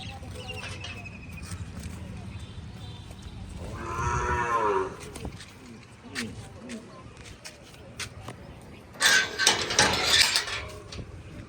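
Kankrej cows low loudly on a farm, with one long moo partway through and another drawn-out bellow near the end, while people talk nearby.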